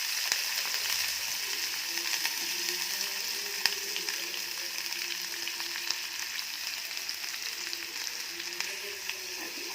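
Onions drop into hot oil already tempered with mustard seeds, cumin and curry leaves, frying with a steady close hiss and sizzle that runs unbroken throughout, with faint crackles and no voices.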